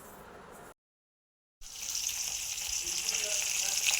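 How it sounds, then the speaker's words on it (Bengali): Fish frying in a pan at home, a steady bright sizzle that starts abruptly after a brief gap and holds loud and continuous, with softer kitchen noise beneath. "এদিকে মাছ ভাজা বসিয়ে দিয়েছি"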